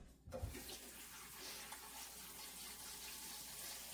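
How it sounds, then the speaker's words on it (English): Berries rinsed under a running kitchen tap, a steady close rush of water splashing into a sink after a brief knock as the flow starts, with no talking. "Let me rinse these off."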